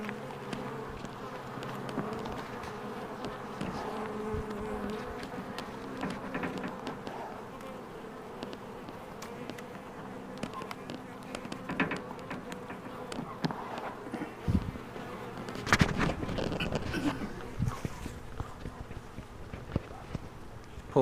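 A honey bee swarm buzzing around a box during a swarm capture in Red Bluff, a continuous droning hum from many bees nearby, with occasional knocks and handling sounds.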